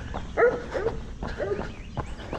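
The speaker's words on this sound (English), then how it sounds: "Dogs are barking." Dogs barking outdoors on a morning run, a few short, moderately distant barks and yips spread across a couple of seconds over background ambience.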